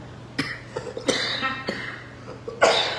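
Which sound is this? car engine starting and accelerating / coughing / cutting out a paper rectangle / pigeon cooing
coughing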